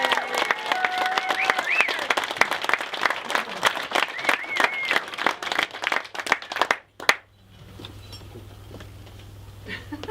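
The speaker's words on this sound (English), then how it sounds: "I think that deserves a round of applause" Wedding guests break into a sustained round of dense applause for the bride, with scattered voices and a few cheers over it. The clapping stops abruptly near the end, leaving a low hum.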